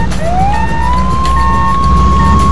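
An ambulance siren in the Flashing Lights emergency-services game rises and holds a loud wailing tone over a constant engine rumble, close and uninterrupted.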